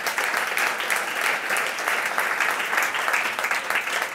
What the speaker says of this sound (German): Auch Sie natürlich gerne mit einem Applaus begleitet.